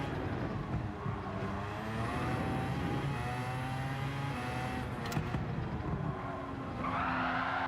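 A car in a racing video game slides with oversteer on a Nürburgring lap, its engine droning loudly while tires squeal and skid throughout, closing with a rising rev, with no talk over it.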